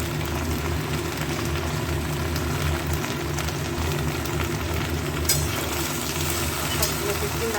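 Potato and okra frying in a pan for aloo bhindi bhaja, with a steady, close sizzle and occasional stirring scrapes running throughout.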